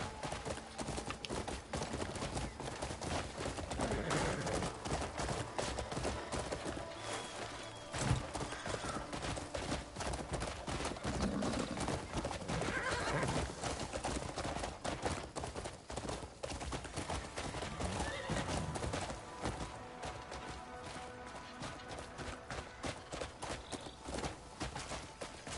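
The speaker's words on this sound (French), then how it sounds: "Un cheval, mais pas n'importe quel cheval, un cheval spécial." Horse hooves clip-clop steadily in the video game Crimson Desert, a continuous walking rhythm buried in dense, busy game sound throughout.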